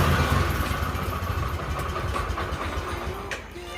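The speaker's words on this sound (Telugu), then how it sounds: "ఓకే, మనకైతే బండి అయితే స్టార్ట్ అయిపోయింది" Motorcycle engine running after being started following a year unused at a village mechanic's, a steady close rumbling idle throughout with no talk.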